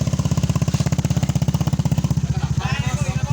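A Honda Beat FI scooter engine runs at a close, loud, rapid pulsing idle after being push-started, with a voice briefly talking over it near the end.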